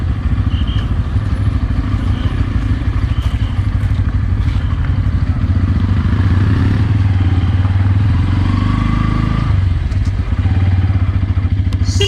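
A Pulsar N160 motorcycle descends a ghat road on the way to Nandi Hills, its mid-pitched engine droning close and loud with a continuous rattling pulse, briefly easing and shifting near the end.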